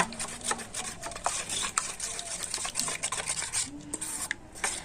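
A spoon stirs spinach juice into semolina batter in a bowl, making repeated soft wet scraping and clinking strokes close by, with no talking.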